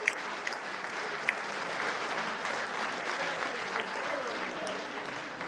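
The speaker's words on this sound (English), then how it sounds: "So everyone, big round of applause" An audience at a Melbourne firefighter stair climb charity presentation breaks into sustained applause, a dense, steady wash of clapping from a sizable crowd in a hall.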